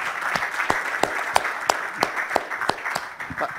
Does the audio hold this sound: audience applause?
yes